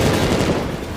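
Gunfire in a Captain America: Brave New World action scene, a dense burst of rapid shots blurring into a loud, continuous rattle for about a second.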